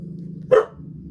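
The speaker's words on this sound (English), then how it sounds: "I don't know what they're barking at" A single short dog bark rings out, close and fairly loud, against a quiet indoor background with a low steady hum before and after.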